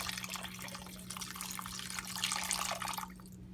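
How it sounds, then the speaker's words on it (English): Chicken broth poured into a pot at a boil, a steady close splashing and trickling stream lasting a few seconds before tapering off, with no talk over it. "I'm adding a cup and a half of chicken broth."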